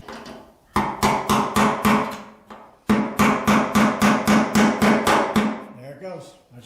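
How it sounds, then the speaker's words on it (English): A screwdriver is struck repeatedly to tap the lock ring of an EFI fuel tank into place, giving two close runs of sharp metallic hammer blows, about seven quick strikes each, loud and near with a short pause between. "let me get a screwdriver and see if we can't get that locked"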